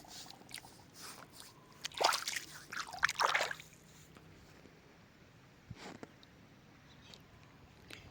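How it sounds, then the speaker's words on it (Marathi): Water splashes and trickles as muddy feet and hands are rinsed outdoors, with a cluster of louder splashes in the middle and a few faint dribbles afterward over quiet background. "बघा पाण्यात पाय हात पाय धुवून"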